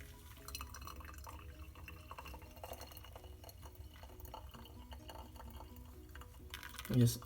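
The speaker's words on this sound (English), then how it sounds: "Then you can see the coffee starting to drip." Brewed coffee dripping through a filter into a glass vessel after hot water is poured over the grounds, a faint, steady trickle of small drips under soft background noise, ending with a louder clink near the close.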